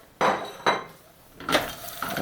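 Almonds being stirred into hot honey brittle mixture in a pan, giving several distinct scraping, clattering strokes of a utensil against the pan, close and fairly loud, with no talking.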